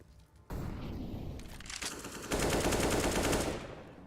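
Gunfire in Counter-Strike: Global Offensive on the Vertigo map, fired through a wall in a pro match: loud, near bursts of rapid automatic shots that grow heavier midway, then stop abruptly.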